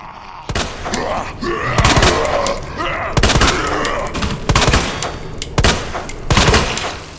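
Gunfire in Resident Evil 2 Remake, several loud close shots at irregular intervals while two enemies are taken down, with groaning creatures in between.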